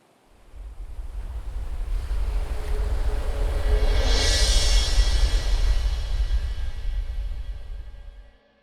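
Ocean waves surge in with a rising tide, a loud, steady wash of surf and wind that swells and then fades, with no voices over it.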